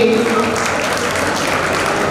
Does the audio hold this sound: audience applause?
yes